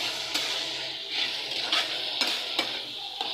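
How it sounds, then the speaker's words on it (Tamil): Chopped tomatoes and green chilies sauté in a pan for a Tamil brinjal and drumstick curry, a soft steady sizzle with a spoon scraping and stirring in occasional knocks, close up and without talk. "எல்லாத்தையும் போட்டு நல்லா இதை வதக்கி விட்டுக்கலாம்."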